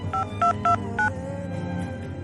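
A telephone keypad being dialed, four distinct two-tone DTMF beeps in quick succession, clear and close, followed by a quiet room with low background hum and no talking.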